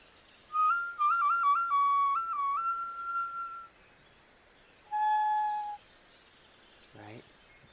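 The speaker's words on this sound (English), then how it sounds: "Alright, so I play this whistle, right?" A hand-played whistle sounds in two phrases, first a longer run of warbling, stepping pitches and then a shorter steady tone, fairly faint against quiet room noise, with a brief chirp near the end.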